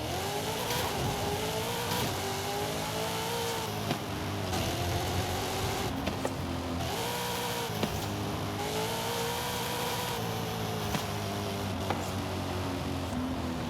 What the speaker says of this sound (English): These things are just backfiring like crazy, all the cars